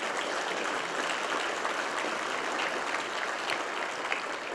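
Audience applause at a health equity summit, a continuous, even patter of many hands clapping at moderate distance, steady from start to finish.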